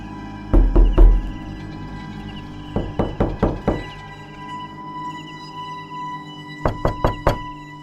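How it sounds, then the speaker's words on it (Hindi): Knocking on a door as a horror sound effect: three sharp, hollow bursts of several quick raps each, spaced a couple of seconds apart, loud and close against a quiet, faintly humming background. "अभी किसी ने दरवाजा खटखटाया।"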